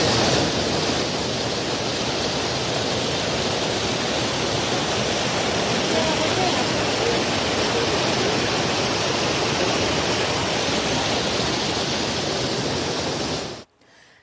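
Torrential rain in Vani taluka, Nashik, with rushing floodwater roaring in a dense, steady wash that stays loud and unbroken before cutting off abruptly near the end.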